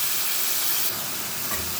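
Spice paste hits a hot pan for a Bengali liver chorchori, setting off a steady, dense sizzle and hiss that fills the whole stretch evenly, close and moderately loud, with a slight flare near the end.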